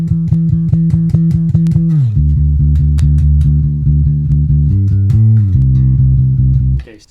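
A metal bass guitar riff for beginners, played alone: fast pedalled notes on a low string, then sustained lower notes that shift pitch a few times before the riff stops abruptly.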